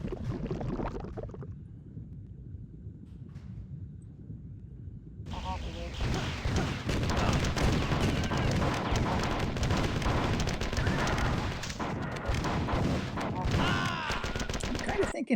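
Video game combat with dual shotguns firing amid dense gunfire and explosions, a continuous loud barrage of overlapping blasts that intensifies midway and stays heavy throughout.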